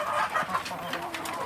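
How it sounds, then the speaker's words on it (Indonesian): Free-range village chickens of a native breed cluck in a continuous, busy stretch of short calls at moderate volume, with no talk. "Seperti saya ini ayam kampung asli sedulur, makannya sangat lahap."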